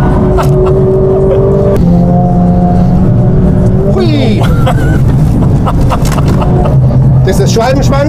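A Mercedes-AMG CLA 45 S engine roars loudly on the Nürburgring Nordschleife, its pitch climbing and dropping through gear changes and throttle lifts, with a driver talking over the sustained engine noise.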